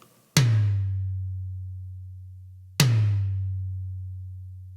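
Two separate tom hits from a drum kit, captured through a bottom mic blended with overhead and room mics, each a sharp attack followed by a long, deep, booming sustain that slowly decays, heard alone with no talk.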